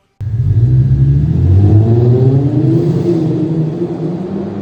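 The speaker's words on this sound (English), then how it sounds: "I didn't expect the sound of my exhaust to be changed by the cold air intake at all." An Infiniti G37 fitted with a Kyostar cold air intake revs up sharply from silence, its engine climbing in pitch, holding a loud, close roar, then easing down slightly.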